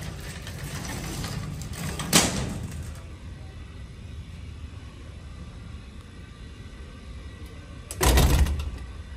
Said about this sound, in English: you must close the doors each time.